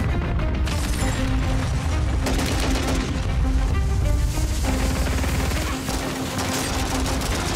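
Close, loud gunfire during a busy Warzone firefight, with pistol shots mixed into a dense, continuous barrage of other weapons and no talking.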